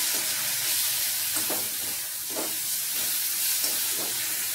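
Ginger-garlic paste with turmeric frying in oil for a Bengali potol chingri dish, a continuous close hiss with a few muffled stirring scrapes.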